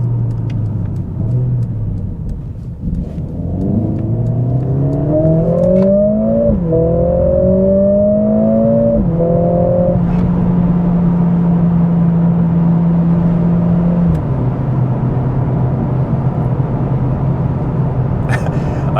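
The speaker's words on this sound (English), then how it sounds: "Those downshifts. God, it's popping like crazy back there." An LS1-swapped Nissan 240SX engine climbs through the gears, its rising roar stepping down at each shift before settling into a steady cruise drone, heard from inside the car.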